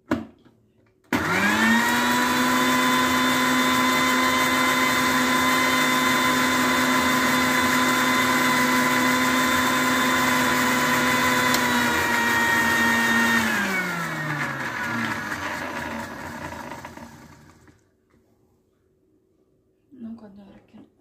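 A mixer grinder whirs loudly and steadily while grinding Mysore rasam paste, running for about thirteen seconds before winding down and stopping, with brief speech at the very end.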